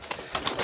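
Iranian pigeons cooing in short soft bursts close by, several low calls spread across under a second with no voices.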